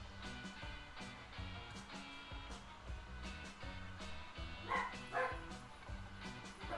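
Dogs barking in a quick run of yaps and woofs, fairly near, mixed over steady game music and background noise in a live stream.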